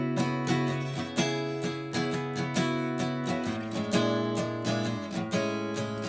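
Acoustic guitar picking the chord shapes of a song, a steady arpeggiated pattern of ringing notes with regular plucked attacks, moderately quiet and close, with no talking.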